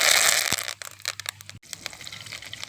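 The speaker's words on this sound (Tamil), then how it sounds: "கருவேப்பிலை போடுதோம்" Curry leaves hit hot oil in a pan with mustard seeds while cooking an egg thokku, giving a burst of loud crackling and spitting that settles into scattered pops and sizzles.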